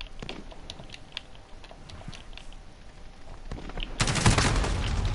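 Call of Duty gunfire on PS4 rattles in rapid bursts, with scattered shots at first and then a loud, sustained volley at the end.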